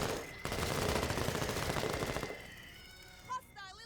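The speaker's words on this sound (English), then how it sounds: "Let's shoot him." Sustained automatic gunfire in the tactical video game Menace, a dense continuous burst that cuts off partway through, followed by quieter game sounds and a short electronic blip.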